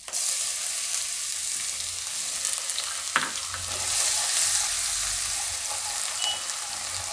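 Garlic fries in oil with bay leaf, red chillies, curry leaves and asafoetida for dal palak, a soft, steady sizzle with one clear knock of a stirring spoon partway through.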